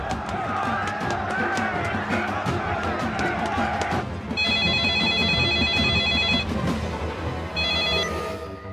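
A telephone rings in repeated bursts, loud and near, through a noisy indoor scene with background voices, at home before news arrives of a family member's illness.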